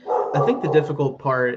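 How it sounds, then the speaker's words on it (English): A puppy barking indoors: a short run of high yips and whimpering barks close by, overlapping with someone talking. "if you hear a dog barking. I have a puppy"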